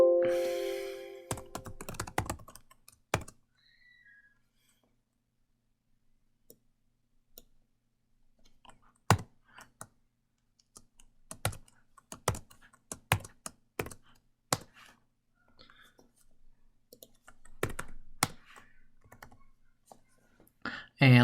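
Keyboard typing on a computer, heard as scattered bursts of sharp clicks and key taps spread through the stretch with pauses between, fairly close, with a little talk near the start.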